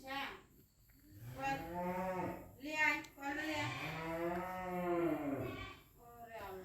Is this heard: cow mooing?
yes